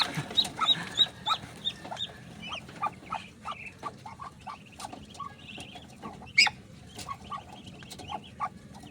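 Many duck hatchlings on a farm peep and chirp in rapid, overlapping calls against steady background noise, with a few louder bursts standing out near the microphone.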